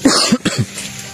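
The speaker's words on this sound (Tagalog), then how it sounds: "May ubo din ako." A few harsh coughs close to the mic, in quick bursts, then quiet.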